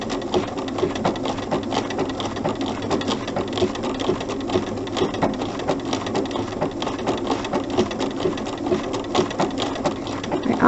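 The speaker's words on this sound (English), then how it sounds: "I want the machine to do the work, so it's that back and forth motion my machine is doing" A sewing machine runs continuously while stitching applique around a fabric circle, a steady close mechanical whir with a fast, even needle rhythm throughout.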